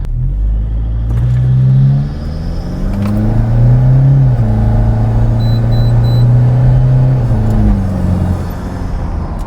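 Toyota Innova diesel with a 2KD engine accelerating smoothly from inside the cabin, a low steady rumble that rises and falls in pitch over several seconds without talk.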